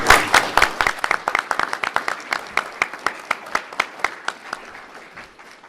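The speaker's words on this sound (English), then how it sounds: "Vote a round of applause for Jackie and Paul" An audience at a debate in the Basilica of Our Lady Immaculate applauding, a burst of many hands clapping that thins into scattered individual claps and fades out.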